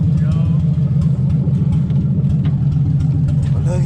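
A car engine runs at a steady idle with a low, even rumble, close by, while someone talks over it.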